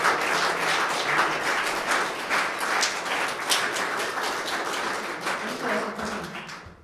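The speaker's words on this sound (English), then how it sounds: "let's give Maisie our applause" An audience applauding at the end of a lecture, dense steady clapping from many hands that holds for several seconds and then fades away.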